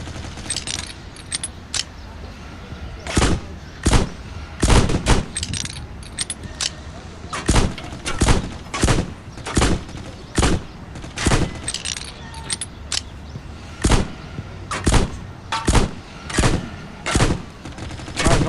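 Rapid sharp gunshots from a weapon in the iPhone mixed-reality RPG shooter Rifters AR, coming in quick bursts and single cracks throughout, loud and close over a steady background hum.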